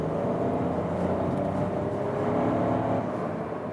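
Seat Ibiza engine running with a steady, sporty-sounding drone and low rumble, continuous and fairly loud throughout, no talking.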